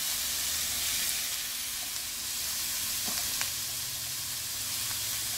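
Yellow squash added to a frying pan with peppers and garlic, giving a steady, soft sizzle with a few faint clicks and stirring sounds, with no talk.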